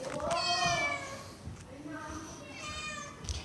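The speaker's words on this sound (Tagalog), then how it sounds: "Halos 40 na yung pusa dito." Several house cats meow in turn at close range, bright drawn-out cries repeating over a busy indoor background, with a person's voice nearby.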